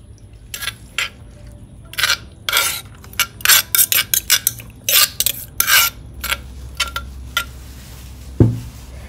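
Metal cutlery scraping and clinking against a plate while cucumber salad is served, with a string of short sharp scrapes in irregular bursts, close and fairly loud.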